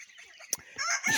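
Cornish Cross meat chickens clucking and squawking in short bursts, with a sharp peak midway and busier, louder fowl noise toward the end.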